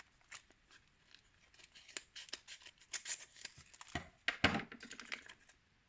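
Scissors cutting at close range: a few quiet, isolated snips, then a quick cluster of sharper cuts toward the end, with no other sound around them.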